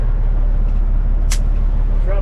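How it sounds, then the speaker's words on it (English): Compressed air bursts out in a short sharp hiss as the air suspension airbags on a semi truck are dumped, close and loud over a constant heavy engine idle rumble. "drop the airbags in the truck"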